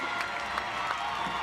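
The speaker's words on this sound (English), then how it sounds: "Hands in the air, cheers from the crowd." A stadium crowd cheers and applauds as a Concacaf women's qualifying football match between El Salvador and Belize ends in El Salvador, a distant, steady roar with scattered clapping.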